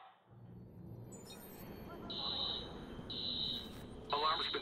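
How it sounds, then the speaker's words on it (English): Beeping electronic alarm in the Watch Dogs video game, repeated tones roughly once a second over a low rumble of game ambience, growing more prominent toward the end. "Alarm's been tripped."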